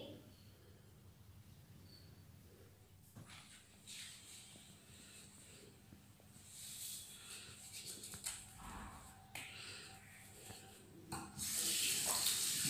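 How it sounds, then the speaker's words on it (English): Hands being washed under a running water tap at a sink, a steady stream of water with splashing and rubbing that grows louder toward the end. "I am doing hand wash properly."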